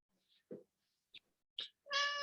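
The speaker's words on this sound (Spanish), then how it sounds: "tengo una gata que me está jodiendo" A female cat meows several times indoors. The calls are short and separated, and a longer, louder, tonal meow comes at the end. No voices are heard.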